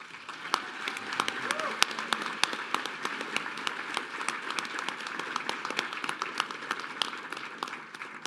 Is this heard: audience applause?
yes